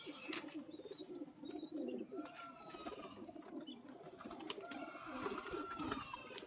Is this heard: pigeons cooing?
yes